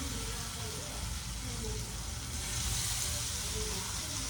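Butter sizzles in a frying pan over a low flame, a steady, dense hiss that holds evenly throughout and swells slightly toward the end, close and continuous.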